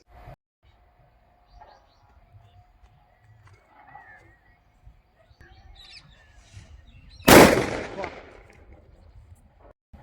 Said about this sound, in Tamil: ஒன் சவுண்ட் கிராக்கர்ஸில் இந்த ஹல்க் வெடி ஒரு அஞ்சு பீஸ் இருந்துச்சு இது எப்படி வெடிக்குது அப்படிங்கிறத நம்ம டெஸ்ட் பண்ணி பார்த்துடலாம்